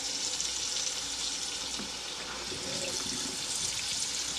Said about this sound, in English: I'm just going to take a spatula, run cold water over it